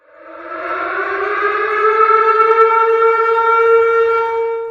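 A loud outdoor warning siren wails in a steady rising tone during a test, strong harmonics and a slight echo, sustained throughout with no talking.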